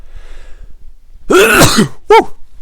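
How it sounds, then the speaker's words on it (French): A sharp, explosive sneeze-like burst followed by a shorter second burst, loud and close, after a moment of near silence. "je vais éternuer"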